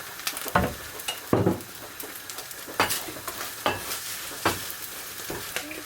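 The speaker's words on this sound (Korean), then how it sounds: "들기름, 여기다 계란 후라이도 해줄게요" An egg frying in perilla oil in a pan sizzles steadily and up close, with a series of sharp spatula scrapes and taps every second or so, and no voices.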